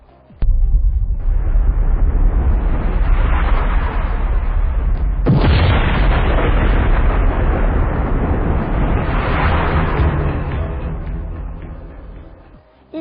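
Explosion sound effect standing in for the Big Bang: a loud, deep rumbling roar that builds, then is struck by a second sharp blast midway and rolls on before slowly fading.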